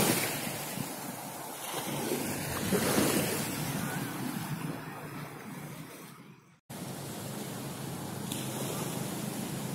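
Ocean waves at Pantai Cermin beach at sunset, a continuous roar of surf with wind buffeting the microphone, swelling and fading, with a brief cut near the end.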